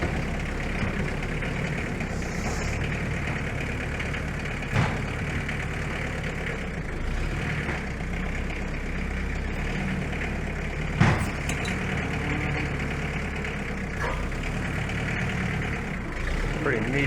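Loader tractor from Kubota idling on a farm in winter, a steady low engine drone running throughout with a couple of faint knocks, under occasional talk.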